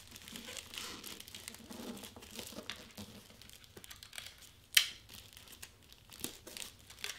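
Gift wrap crinkles and rustles steadily at close range while a piece of tape is pulled and pressed down, with one sharp ripping snap midway and softer crackles after.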